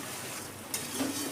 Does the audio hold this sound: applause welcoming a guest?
no